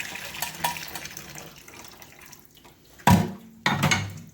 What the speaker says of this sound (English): now I'm going to drain the pasta water